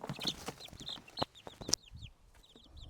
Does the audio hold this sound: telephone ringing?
no